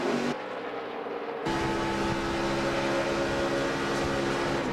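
Onboard engine of a NASCAR Camping World truck at Nashville on a restart, a steady loud drone with strong harmonic tones after a quieter opening moment, continuous without talk.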